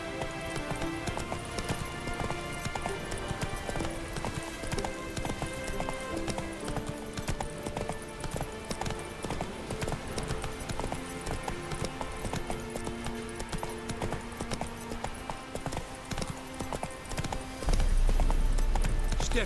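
Hooves of the horse Roach in The Witcher 3, a steady clip-clop gallop that runs continuously under game music, with a brief rumbling swell near the end.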